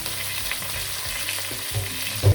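Large-cut onions sizzle in hot ghee in a pot, a continuous crackling hiss broken by the soft scrape of stirring and a brief clunk near the end.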